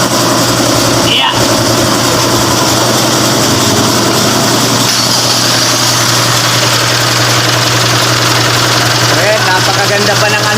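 A 2023 Mitsubishi Strada idles steadily and loudly right after an oil change, a constant low engine drone with a brief knock near the start, while people talk over it.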